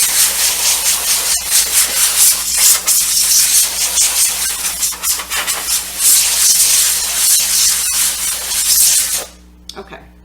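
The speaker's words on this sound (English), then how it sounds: "I'm just going to spray down the keyboard" A sustained spray of cleaner onto a computer keyboard hisses steadily for several seconds at close range, then cuts off abruptly near the end.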